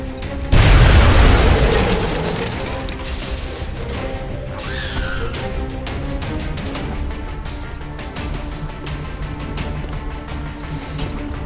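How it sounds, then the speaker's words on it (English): A grenade explodes in the turn-based strategy game XCOM: Enemy Within: one loud, close boom with a crashing burst that fades into a steady low rumble and ongoing game sound. "Take a grenade, chuck it at this guy"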